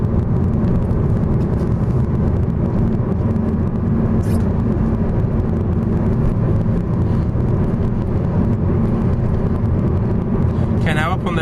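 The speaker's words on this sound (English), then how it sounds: "checking it's safe to speed up, checking no one's overtaking us, and then making adequate progress" Car accelerating on a road during a driving test, a steady loud engine and road rumble that fills the whole stretch, with a voice talking over it.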